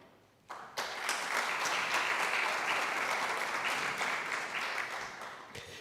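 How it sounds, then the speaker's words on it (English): Applause breaks out from the audience at an academic conference welcoming a professor, starting abruptly after a brief quiet and holding steady, fairly close and full, before tapering slightly. "please give a round of applause to Professor Paul Knoll."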